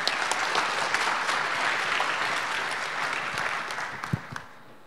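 A conference audience breaks into sustained applause, a dense wash of clapping at moderate volume that slowly thins out over about five seconds, with a few sharper individual claps near the end.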